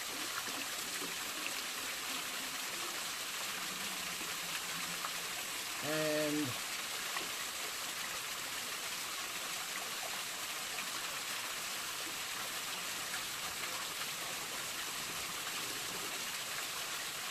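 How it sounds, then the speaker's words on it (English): Water being scooped into a container from a mountain stream on Mount Wellington near Hobart, Tasmania: a constant rushing flow throughout, with a brief gurgling burst partway through as the container takes in water; someone speaks faintly at the start. "Fill this container up"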